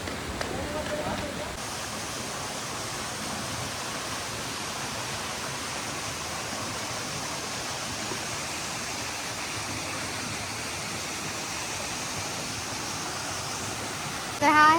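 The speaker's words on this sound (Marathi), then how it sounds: "बघा हा छोटा वॉटरफॉल आहे" Small waterfall in Ekole valley near Lonavala, a steady broadband rush of falling water close by that runs without a break for the whole stretch, with a brief louder splash near the end.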